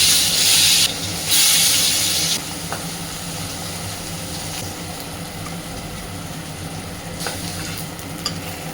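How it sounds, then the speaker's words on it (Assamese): Fish fries in oil in a pan on a gas stove, a steady close sizzle with bursts of louder hissing spatter near the start and later, plus scraping and stirring sounds. "এতিয়া গেছটো জ্বলাই লওঁ তাৰপিছতে মাছখিনি ভাজি লওঁ"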